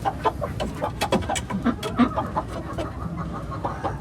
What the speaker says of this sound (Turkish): Gemi gibi bir horoz.